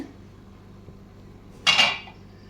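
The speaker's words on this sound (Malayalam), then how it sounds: "നമുക്ക് പുലാവ് ഒന്ന് തുറന്ന് നോക്കാം" A metal lid is lifted off a pot of aloo pulao cooked with basmati rice, potatoes and spices, giving one sharp, close clank of metal that rings briefly in an otherwise quiet kitchen.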